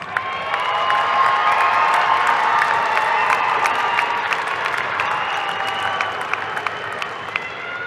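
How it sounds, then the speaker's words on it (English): A commencement ceremony audience applauds and cheers for the graduates: a dense, steady wash of clapping and shouts that holds loud for the whole stretch and eases only slightly toward the end. "give them a round of applause"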